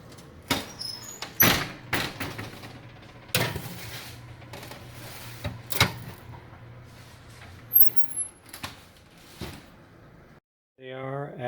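An oven door shuts on a tray of baked tempeh meatballs amid a series of sharp kitchen knocks and clatters, close and moderately loud, before a brief voice at the end.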